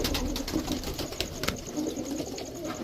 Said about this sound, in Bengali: এই হচ্ছে কাসুরি টেডির বাচ্চা